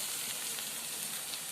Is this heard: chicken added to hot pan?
yes